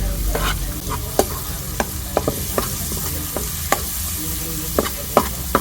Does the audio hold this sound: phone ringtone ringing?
no